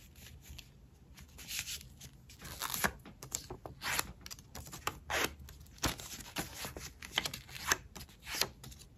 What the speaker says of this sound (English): and we're gonna fold it in half.